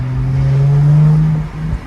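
A Jaguar F-Type convertible with a manual gearbox revs loudly and close up, its engine holding a strong steady drone before cutting off into a brief rough crackle of exhaust pops on the overrun. No voices are heard.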